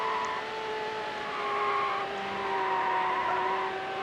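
A car sliding through a corner in the racing game Need for Speed Hot Pursuit 2, a steady engine tone with a drawn-out tire squeal rising and fading over a few seconds, fairly quiet, no voices.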